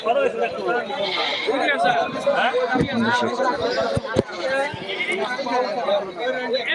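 Goats bleat among the constant chatter and hubbub of a busy livestock market in Tangail, where buyers and sellers haggle over prices; the animal calls are mixed into the dense crowd noise rather than standing alone.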